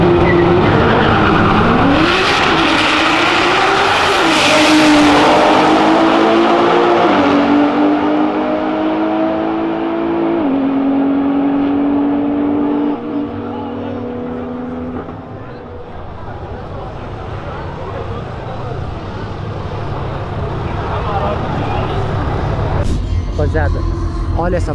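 A 750-horsepower Porsche accelerating hard, its engine note rising and shifting in loud sustained pulls that fade toward a distant rumble, with a voice speaking over the engine.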